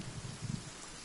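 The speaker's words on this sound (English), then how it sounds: "It's raining good." Rain falling in the survival video game The Forest, a soft steady hiss of drops with a few low, brief patters, faint and continuous for about a second with no voices.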